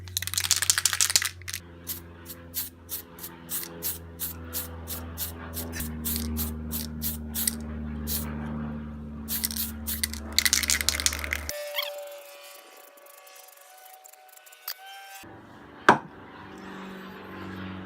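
Spray paint can hissing outdoors onto a 3D printed Splatoon figure, with several short bursts and longer sprays over a steady low hum, followed by a quieter stretch with a brief sharp knock.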